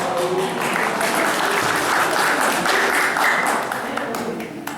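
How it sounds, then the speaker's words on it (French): Audience applause at an FSGT Sarthe cycling awards evening, a dense steady wash of many hands clapping indoors that holds for several seconds and tapers slightly at the end. "applaudissements"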